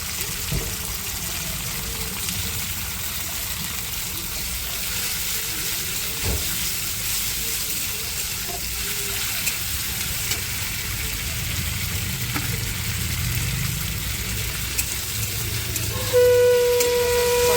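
Ginger paste and cumin paste fry in hot oil in a pan for fish head masoor dal, giving a steady, close sizzle that holds throughout with no talking.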